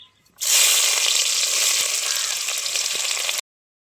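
Fenugreek seeds, fennel seeds and onion hit hot oil for a Tamil-style crab masala, a loud, steady sizzle that bursts in after a brief pause and hisses on for about three seconds before cutting off abruptly.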